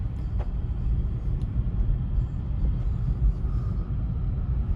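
A Honda car rolling along at low speed, giving a steady low rumble of engine and road noise heard from inside the cabin, with no talking.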